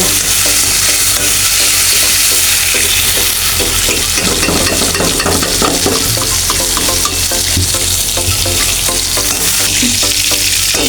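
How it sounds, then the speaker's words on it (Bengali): Shrimp and bitter gourd fry loudly in a pan, a dense, continuous sizzle with brisk stirring and rhythmic scraping throughout, close up and with no voices. "আমি এখন সব ভেজে নিচ্ছি"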